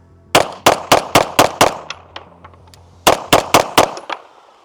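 Sharp, loud pistol shots from an Arma Zeka AZ-P1 Vigil full-size handgun at an outdoor range: a quick string of six evenly spaced reports, a pause, then four more, each cracking close with a short ringing echo.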